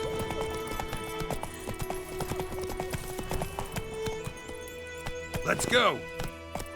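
Roach, the horse in The Witcher 3, trots with rhythmic clip-clop hooves while someone speaks over them, then a horse whinny rises near the end.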